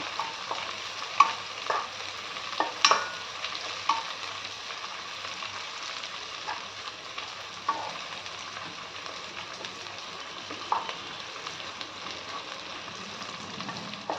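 Onion and mint frying in a pan over a high flame for chicken curry: a steady bright sizzle runs throughout, broken by occasional stirring scrapes and small pops.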